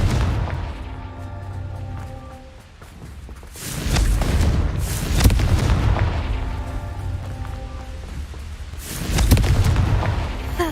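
Confringo blasting spell going off in a video game: heavy booming explosions in several loud bursts with deep rumbling tails and gaps between them.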